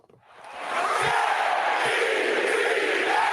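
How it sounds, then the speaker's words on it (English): A big stadium crowd at a New York Jets football game chants in unison, its loud, dense roar swelling within the first second and then holding steady and unbroken, with no separate voice standing out. "We got a Jets chant real quick."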